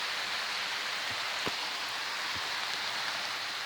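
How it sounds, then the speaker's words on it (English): Steady rain falls in a forest during a hike, a constant close hiss of drops with a few sharper individual drips standing out, no talking. "it's raining, and I hope it don't get any harder"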